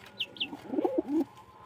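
A house pigeon gives a short, soft throaty coo close by, preceded by two quick, thin chirps from another bird, all within under two seconds and fairly quiet.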